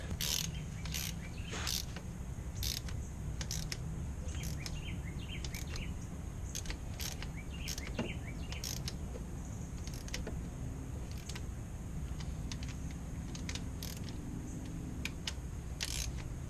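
A torque wrench tightens compressor bolts on a 2001 Ford Escape 3.0L, giving a series of sharp, irregular ratcheting clicks over a low steady background hum, fairly close and moderately loud.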